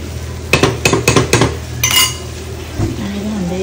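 Pots and dishes being scrubbed and washed in a home kitchen, a quick run of close, sharp metallic clanks and knocks followed by softer scraping and rattling, with no talk.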